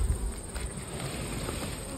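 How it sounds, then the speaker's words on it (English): A dense, steady hum of many honey bees buzzing close by around a hive, continuous with no pauses. "Now the bees will go in and out of these 2-inch holes as and when required."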